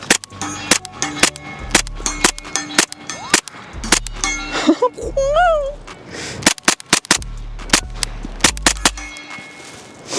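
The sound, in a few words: suppressed P320 handgun gunshots with Resilient RSP suppressor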